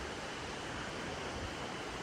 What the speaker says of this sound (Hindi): भयंकर नदी का फ्लो है, इतना गहरा है ये